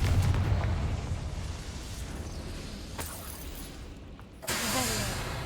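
A Confringo blasting spell goes off in Hogwarts Legacy: a sharp crack followed by a loud, broad burst that booms and then settles into a rushing rumble over a low game ambience.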